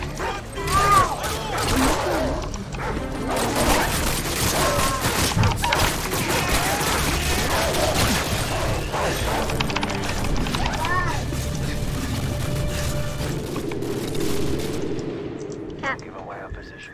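Dense, continuous gunfire and explosions in a shooter video game, loud and busy with overlapping shots, mechanical clatter and thumps throughout, fading at the end.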